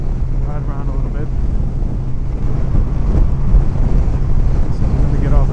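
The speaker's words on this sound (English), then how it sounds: "Yeah, that's some strong winds." Strong gusty wind buffets the microphone while riding a Honda Valkyrie motorcycle on a windy day, a loud continuous roar with engine rumble underneath and brief bits of speech.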